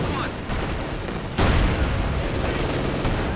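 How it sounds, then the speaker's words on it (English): Mortar and shell fire from Company of Heroes 2 hitting a half track, a dense, loud roar of explosions and gunfire, with a heavy blast midway and continuous battle din throughout. "Half track taking mortar fire"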